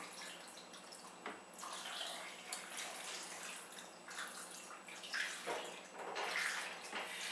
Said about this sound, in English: we're just going to fill the crock pot until the water comes up about an inch above the top.